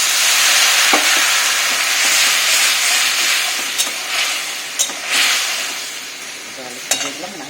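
Water is poured into a hot pan where shol fish is cooking, setting off a loud, steady sizzle and hiss with occasional faint clinks of a utensil, close up.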